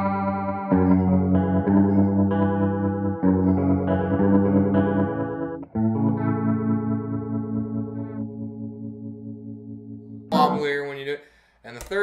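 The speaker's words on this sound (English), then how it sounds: "Second is more of a wobble chorus." Electric guitar through an analog chorus pedal on a wobble setting: sustained strummed chords and ringing notes with a clear pitch wobble, played close and alone, ending in a short burst of noisier strumming.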